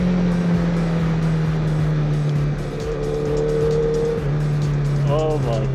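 A 2008 Honda Fireblade motorcycle ridden at speed, its engine droning loud and steady with tonal shifts as revs change, wind rush throughout, and a brief rising whine near the end.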